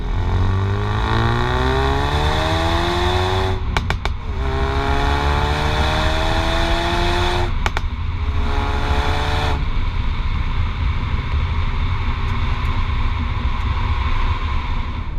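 A 2017 Ford Focus RS in sport mode accelerates hard through the gears, its loud engine note rising with each pull and dropping at shifts, with exhaust crackles and pops on lift-off.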